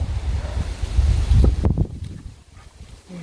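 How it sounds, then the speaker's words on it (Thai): Strong wind buffets the microphone outdoors at an orchard, giving loud, rumbling gusts for more than a second before they drop away to a lighter, rougher flutter. "ลมดีมากลม"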